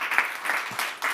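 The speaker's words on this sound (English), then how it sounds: "Could we give Fausto a round of applause" Audience applause from a live event audience in Brussels, a steady wash of many hands clapping for about a second, moderately loud with no voices over it.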